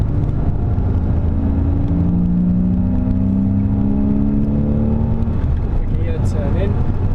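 A Renault Clio powers out of a corner at Silverstone circuit, its engine a loud, steady drone that climbs gradually in pitch as it accelerates, heard continuously up close from inside the car.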